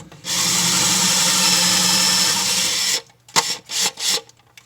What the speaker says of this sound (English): Drill your holes.